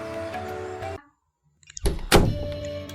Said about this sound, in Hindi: दूसरा ड्राइवर भी कार का दरवाजा खोलने लगा।